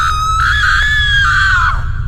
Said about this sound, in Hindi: गुल्ली बुल्ली को रॉड की चिल्लाने की आवाज सुनाई देती है, बचाओ रे।